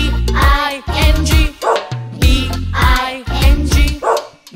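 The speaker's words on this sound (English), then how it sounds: "There was a farmer, had a dog, and Bingo was his name" A cartoonish sound-effect dog barks rhythmically through a children's nursery rhyme, its loud bow-wow yips repeating in bursts of two and three, standing out clearly alone.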